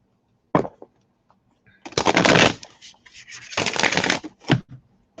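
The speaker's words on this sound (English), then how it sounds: "I just want to shuffle these up, and I'm going to pull your Rebel deck first." A deck of oracle cards is shuffled by hand, with a brief riffle followed by two longer bursts of crisp card flutter and a final short snap, close and clear against a quiet room.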